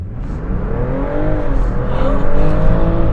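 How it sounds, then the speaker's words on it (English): A 2024 BMW X5 xDrive50e plug-in hybrid SUV in sport mode accelerates hard from a standstill, its engine note rising steadily in pitch and growing louder over about three seconds, close and continuous with no talking. "we're just gonna whack the accelerator here."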